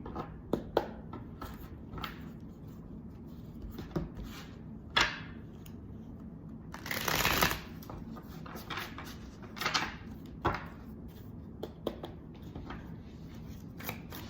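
Tarot cards are shuffled by hand, a series of close, irregular riffles and soft slaps, with one longer burst of card shuffling in the middle.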